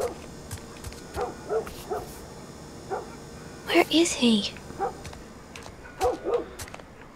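A dog in the video game The Last of Us Part I gives repeated short barks and yips at moderate distance, spread across the scene, with a voice speaking briefly between them.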